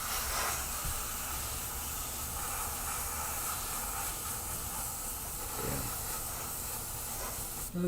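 An airbrush sprays paint over a skull stencil, giving a steady, soft hiss that runs unbroken throughout.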